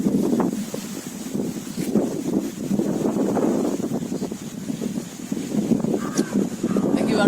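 Strong cyclone wind gusting hard outdoors, a continuous rough rushing roar with microphone buffeting, heard under someone speaking.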